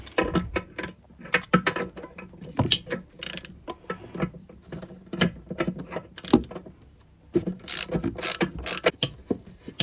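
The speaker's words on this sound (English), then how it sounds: "Ratchet feels nice and smooth and tight." A newly updated ratchet wrench from a socket set is worked back and forth, giving rapid bursts of close, loud ratcheting clicks with short pauses between strokes, and no voices.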